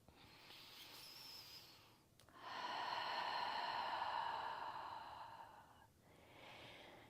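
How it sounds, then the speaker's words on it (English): A person takes slow, audible Ujjayi breaths through the nose during a yoga practice. A long, steady, hissing inhale or exhale rises and fades, with softer breaths on either side. It is close and quiet, with no talking. "Coming into Ujjayi breath, inhale through the nose, exhale through the nose or the mouth."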